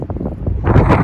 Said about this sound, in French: Je m'excuse pour le vent